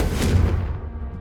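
A single deep, booming blast from the Confringo spell in Hogwarts Legacy, a loud explosive hit that quickly decays into a fading rumble.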